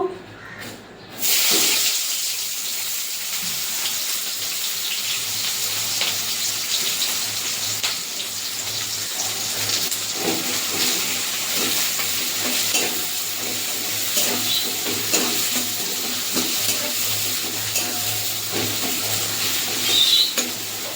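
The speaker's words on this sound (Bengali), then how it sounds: "ওই তেলে কুচানো পেঁয়াজ দিয়ে দেবো।" Chopped onions frying in oil in a kadai wok make a continuous hissing sizzle, close and fairly loud, starting after a brief quiet moment and running evenly with faint stirring noises.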